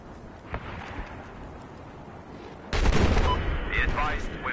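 Battlefield 4 battle with an incoming missile: faint scattered distant shots, then a sudden loud blast and a sustained barrage of gunfire with whining tones near the end, dense and close.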